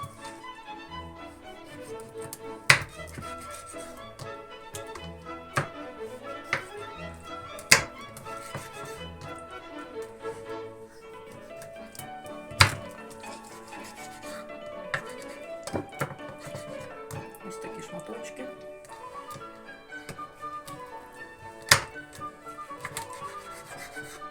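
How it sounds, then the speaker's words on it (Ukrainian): A knife cutting fish into small pieces for Ukrainian fish soup in Tyvriv, heard as scattered sharp taps of the blade on a board with soft rubbing between them, under quiet background music. "Беремо нашу рибку і ріжемо ось на такі невеличкі шматочки"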